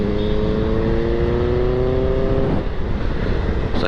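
A Benelli 600i superbike's four-cylinder engine drones loudly in second gear on a highway, holding a steady rising pitch before easing off. Heavy wind roar runs beneath it throughout.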